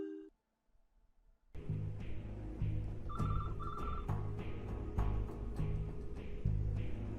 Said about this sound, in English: Oh wait, hold on, I'm getting a phone call.